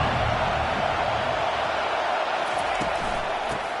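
Steady roar of a stadium crowd in a Madden football video game, a dense continuous wash of cheering and noise held under a play-by-play commentator's voice throughout.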